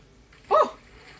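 Minecraft dog, a tamed wolf, gives a single short bark in the game, clear and moderately loud over faint background, with no talking.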